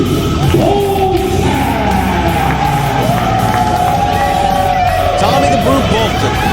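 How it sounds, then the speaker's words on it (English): A wrestling arena crowd at a Reality of Wrestling show cheers and yells in a loud, continuous roar, with an announcer talking over the noise. "Bolton, coming here in the World Gym Arena, liking the sounds of the crowd."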